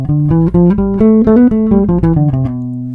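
A bass plays a stepwise Locrian mode scale of about a dozen evenly spaced notes, rising then falling, each clearly plucked and sustained, with the final note ringing out.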